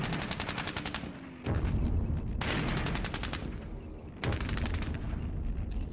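Sustained, loud machine-gun fire from the Squad Battles wargame pours onto an enemy stack in long rattling bursts, with one brief pause midway before the firing resumes.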